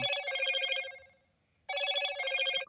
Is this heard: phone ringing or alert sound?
yes